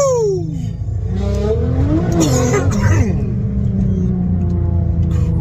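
A 2017 Nissan GT-R making about 850 wheel horsepower accelerates hard with its exhaust valves closed in quiet mode. The engine note climbs and rumbles loud and close from inside the cabin, and its pitch sweeps upward through the gears.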